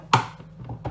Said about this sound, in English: I'm going to chop up all my other ingredients